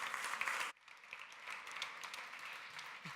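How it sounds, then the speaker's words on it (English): Audience applause at a conference session at Hub.Berlin 2017, a loud burst of clapping that drops off quickly into faint, scattered claps. "Big round of applause."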